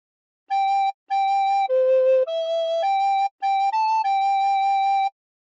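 A recorder plays a phrase of God Defend New Zealand as a series of clear, steady sustained notes, mostly on one pitch with a few lower and higher steps, separated by brief breaths.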